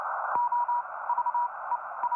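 Morse code weather report sent over amateur radio, a bright single-pitch sidetone keyed into quick dots and dashes, with a few faint clicks and steady background hiss.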